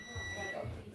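A beeper going off in a kitchen where pizza is cooking gives a faint, steady electronic tone that holds evenly for about a second.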